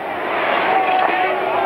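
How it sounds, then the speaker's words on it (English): A hometown Saskatchewan Roughriders crowd boos at a 1985 CFL game against the Calgary Stampeders, a dense, loud wash of massed voices sustained without a break. "To a chorus of boos, the hometown crowd didn't like that at all"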